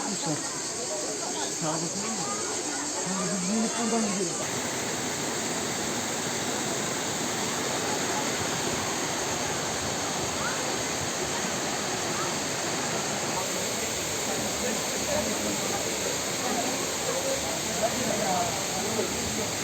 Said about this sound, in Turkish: Şelalenin yüksekliği 15 metre falan var.